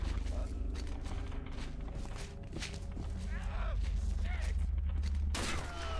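Enemy gunshots in the video game Condemned 2: Bloodshot: a steady rattle of repeated shots over a low rumbling background, with footsteps and other game effects mixed in and speech heard intermittently.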